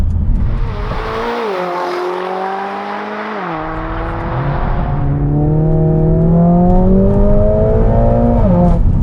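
A Stage 2 tuned Mercedes-AMG A45S making about 500 bhp revs hard toward 7,000 RPM, its loud engine note climbing steadily through sustained rising harmonics, close and alone without talk.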